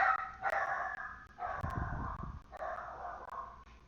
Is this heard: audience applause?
no